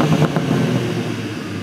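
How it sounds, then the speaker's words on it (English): Engine of a new BMW M2 revving, a brief loud rise in the opening moments that settles into a lower, steadier drone close by. "let's have a listen to what this new M2 sounds like"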